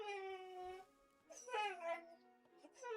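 A dog whines and cries for food indoors, with drawn-out, high, wavering whimpers that repeat close by and rise and fall in pitch.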